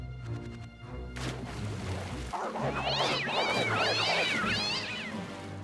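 A catfish creature in the video game Conker: Live & Reloaded gives several loud, wavering meows and caterwauls over a busy game soundscape with crashes, thuds and splashing water.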